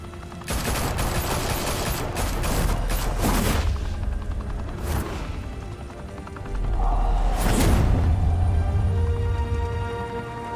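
Sustained gunfire bursts and booming blasts in the Batman: The Telltale Series video game, loud and dense throughout with swells of explosive noise and a rumbling low end.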